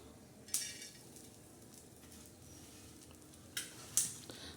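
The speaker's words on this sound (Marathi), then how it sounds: "आता तव्यावर आपण सुकट टाकणार आहोत." Dried sukat fish is dropped onto a hot tava griddle for dry roasting, giving a few short bright clinks and scrapes with a faint sizzle in between, close and fairly quiet.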